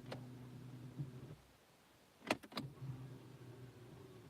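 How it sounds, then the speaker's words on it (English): A car's electric parking brake releases with a short mechanical whir, then a pause and a quick cluster of sharp clicks and ticks close by, all over a faint low engine idle. "my car's got an electric parking brake, so mine just... Hang on a minute, I'll put the brake off and you can hear it"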